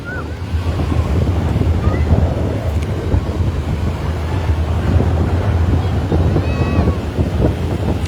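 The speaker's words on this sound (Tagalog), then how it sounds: "lakas lang ang alon. Parang nagwawala yung dagat." Rough sea surf churns and crashes continuously at Lingayen, Pangasinan, with heavy wind buffeting the microphone and faint voices of a crowd in the background.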